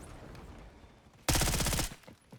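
A sudden close burst of rapid automatic gunfire in Call of Duty Warzone, a loud rattling volley lasting about half a second against quieter background game noise, with no voices.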